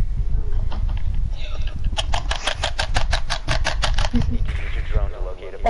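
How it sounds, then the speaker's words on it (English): Rapid bursts of clicking keys and mouse buttons being spammed during Rainbow Six gameplay, a fast regular clatter in the middle, with engine-like hum and some talk around it. "I hear someone spamming a keyboard and mouse."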